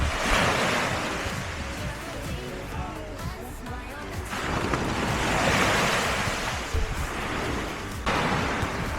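Sea waves break on a coast in Spain, a loud continuous roar of surf with wind buffeting the microphone, swelling and easing in broad surges.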